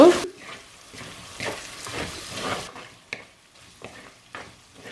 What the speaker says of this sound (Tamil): இன்னொரு 5 நிமிஷம் நல்லா பொரிய விடுவோம்.